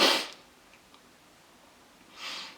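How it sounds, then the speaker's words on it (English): Two brief bursts of breathy noise, a sneeze at the start and a softer one near the end, separated by quiet; close and fairly loud, during a Dolce & Gabbana Light Blue fragrance review. "I'm gonna sneeze again."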